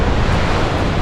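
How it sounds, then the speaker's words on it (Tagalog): Strong wind at sea near a boat, a dense roaring rush of wind and water noise buffeting close to the microphone for about a second. "Medyo malakas ang hangin."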